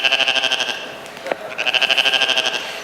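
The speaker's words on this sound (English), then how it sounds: "Is that the goat the honey badger ate?" A goat bleats in a rapid, wavering, nasal cry, pausing briefly before a second quavering bleat; loud and close, with no talk.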